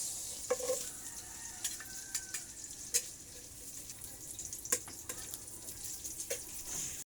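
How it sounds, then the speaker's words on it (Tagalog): Garlic and onion sauté in a pan with a continuous hiss of frying, punctuated by sharp clicks and scrapes of a utensil stirring against the metal. "mag-gisa muna tayo ng bawang sibuyas"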